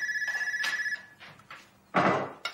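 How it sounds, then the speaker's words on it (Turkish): A telephone rings in a large house, repeated electronic ring bursts at the start, followed by door thuds and household knocks. "duymuyor mu telefonu kız?"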